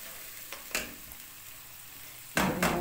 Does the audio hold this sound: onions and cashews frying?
yes